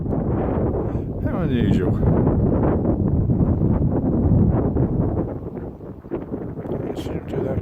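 Strong, cold wind buffets the microphone outdoors in Cambridge, a steady loud roar with gusty swells throughout, while a person talks over it.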